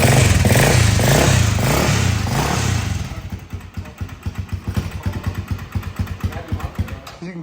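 A Honda 400EX single-cylinder engine swapped into a Polaris RZR 170 revs loudly, then drops to a lumpy, thumping idle with a steady pulsing beat, close by.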